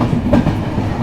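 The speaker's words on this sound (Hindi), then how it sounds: "बहुत छोटी सी ट्रेन है, 2 3 tier, 1 chair car, 6 second seating के कोचेस" A small Amritsar–Chandigarh intercity train, number 12242, running on rails in Punjab, heard as a loud, close, continuous rumble of wheels with a faint clickety-clack, and no talking.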